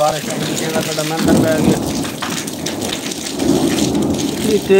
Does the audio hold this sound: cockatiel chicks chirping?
no